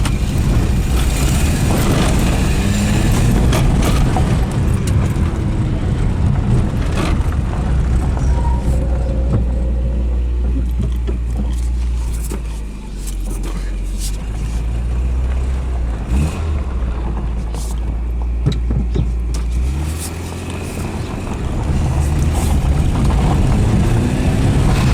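A 1986 Peugeot 305 GTX engine revs loudly and close, its low rumble rising and falling steadily with heavy wind buffeting across the microphone and no talking.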